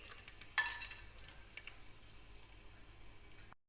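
Whole spices like cloves, bay leaf, cinnamon and cumin fry in oil in a pressure cooker with a soft, steady sizzle, faint and close, broken by a single brief clink near the start.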